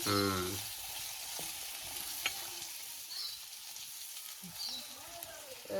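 A chilli mixture sizzles in a pan over a wood-fired clay stove while it is stirred, a steady frying hiss with occasional scrapes and a short clatter at the start, fairly quiet.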